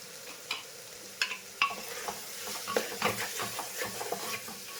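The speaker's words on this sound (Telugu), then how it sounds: "ఇది ఫ్రై అవుతుండగా 1/2 స్పూన్ పసుపుని, 1/2 స్పూన్ సాల్ట్ వేసుకొని వేయించుకోవాలి." Onion and tomato fry with turmeric and salt for Andhra-style gongura mutton, a steady sizzle broken by scraping stirs and a few sharp spoon taps against the pan.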